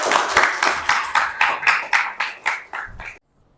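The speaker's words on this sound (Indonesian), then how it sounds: "Tepuk tangan buat kita semua." A class of students applauding together at the close of a lesson, a run of about a dozen loud, evenly spaced bursts of clapping that stop abruptly, with no talk over them.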